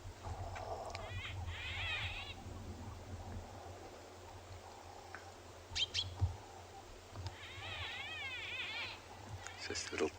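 A yellow-throated petronia calls beside a South African watering spot, giving two short bursts of quick, bright chirps against a soft, steady outdoor background.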